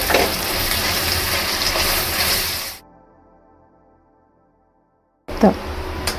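Ginger garlic paste with onions sizzles in hot oil in a pan for a gongura chicken dish, a loud, dense frying hiss that cuts out to near silence and then returns briefly near the end.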